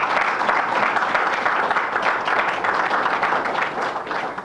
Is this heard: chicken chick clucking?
no